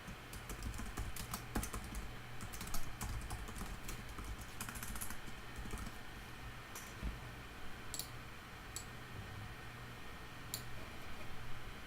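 Typing on a computer keyboard while editing label text in a Java login interface in the NetBeans IDE: quiet, close, irregular key clicks in short bursts with a few sharper taps, over faint background hum.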